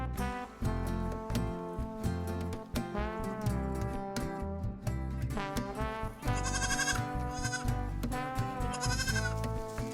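Dairy goats bleating repeatedly on a small farm, a string of loud, wavering calls close by, overlapping and following one another with short gaps and no talking.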